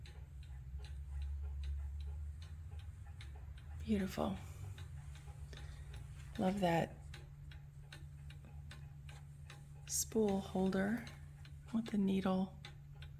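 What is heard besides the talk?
antique clocks ticking in a shop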